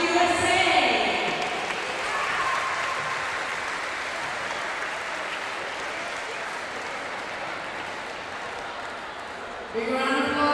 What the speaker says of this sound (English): Big round of applause for North Country, USA